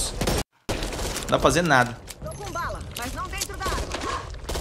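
Rapid gunfire from the co-op zombie shooter Back 4 Blood plays in the background, with game effects underneath, while a player talks over it almost throughout.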